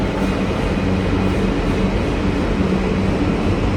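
A train rumbles through an underwater station near Sirkeci in Istanbul, a loud, continuous roar of wheels and carriages that fills the space without pause.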